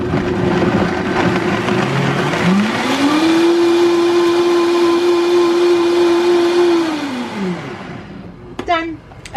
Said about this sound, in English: let's go over to the blender